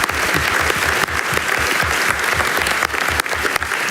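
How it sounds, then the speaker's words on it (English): Audience applause for Damiaan Denys and Mark Solms after a talk, dense and sustained clapping from a large crowd filling the whole stretch, with a few brief dips. "Please, a big hand of applause to both Damiaan and Mark."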